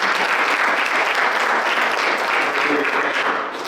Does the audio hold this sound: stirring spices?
no